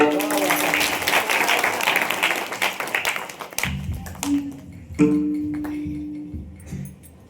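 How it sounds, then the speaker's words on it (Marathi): Audience hands clap together in a dense, steady burst during a Marathi devotional kirtan, lasting about three and a half seconds before cutting off, after which sustained instrumental tones continue. "टाळी वाजवा टाळी."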